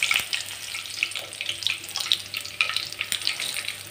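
Curry leaves dropped into hot oil with mustard seeds and cumin crackle and spit in a close, bright, sputtering sizzle with irregular pops, heard alone with no talk.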